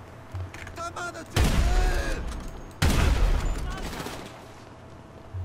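Bursts of gunfire in GTA 5 Online, two loud volleys of rapid shots separated by a quieter stretch of tonal game sounds, then fading into a softer rumble.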